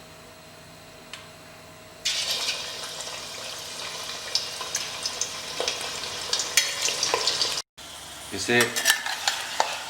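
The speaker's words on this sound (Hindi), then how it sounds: "अब सबसे पहले ये जो हमारा मीट है, इस मीट को इसमें फ्राई कर लेंगे इस घी में हम।" Mutton pieces go into hot ghee and set off a sudden loud sizzle that keeps hissing and crackling. Spoon scrapes and stirring clatter break in through it, the sound cuts out briefly near the end, and a voice speaks once.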